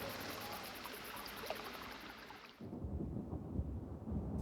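Thunderstorm over a bridge on the Mississippi River: a steady roar of rain and wind gives way at mid-clip to a deep, rumbling roll of thunder that stays loud to the end.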